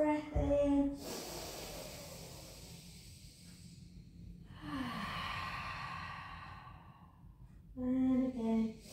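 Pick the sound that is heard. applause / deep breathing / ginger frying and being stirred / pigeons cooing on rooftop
deep breathing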